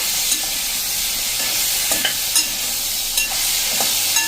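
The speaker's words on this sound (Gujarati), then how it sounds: "2 મીડિયમ સાઇઝના ટમેટાને મિક્સ કરી દઈએ" Two medium tomatoes are stirred into eggplant curry cooking in a pan. A spoon scrapes the pan in several sharp, spaced strokes over a soft, constant sizzle, close and fairly loud, with no speech.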